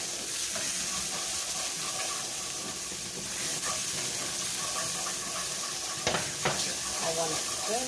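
Turkey and bacon with great northern white beans sizzling and being stirred in a pot, a steady broadband fry hiss with a few sharper clinks and scrapes near the end, no talking.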